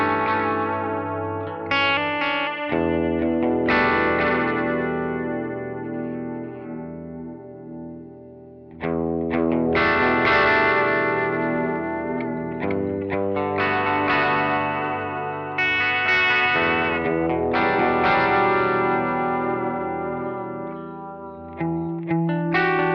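Electric guitar through a Strymon Deco tape saturation and doubletracker pedal, chords and single notes smeared by delay repeats and chorus-like modulation, sustained and ringing with a slight gritty edge, no voices.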